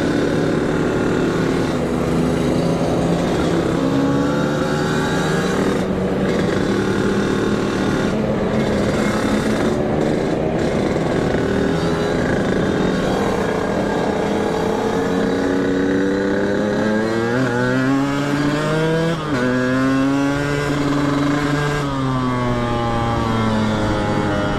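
A Kawasaki Ninja RR motorcycle riding on the road near Sumedang, its two-stroke engine droning loud and close, with several rising revs as it accelerates through the gears late on.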